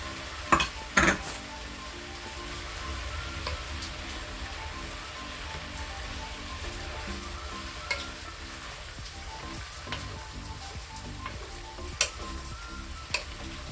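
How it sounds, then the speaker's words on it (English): Textured vegetable protein sizzles steadily in a pan for a vegetable soup. A soft, continuous frying crackle sits under a low hum, with a few sharp clinks of a utensil against the pan. "Let that saute for a bit."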